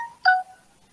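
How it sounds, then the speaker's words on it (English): A phone alert for an incoming text message sounds once, a short bright two-tone chime of about a fifth of a second, with faint tones just before it and quiet afterward. "what is that ringing in the background? That's someone's texting me"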